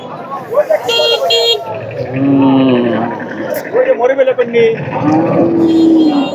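Cattle moo repeatedly at a busy livestock market for Deshal and Sahiwal bulls, drawn-out calls close by over crowd chatter and occasional horns, with people talking throughout.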